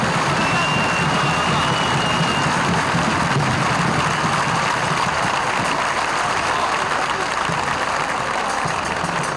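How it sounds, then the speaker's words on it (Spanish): A large crowd at an outdoor remembrance gathering for Argentina's 30,000 disappeared applauds continuously, a dense wash of clapping with scattered voices and crowd murmur underneath. "un fuerte aplauso"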